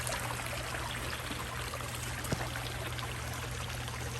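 Water washing down and draining at a backyard koi pond makes a steady, close rushing pour with a constant trickling stream and a low hum underneath.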